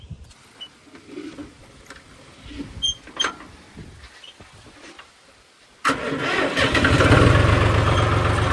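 A few quiet clunks and shuffles, then a modified tractor's engine cranks and catches, settling into a loud, steady rumbling idle close by.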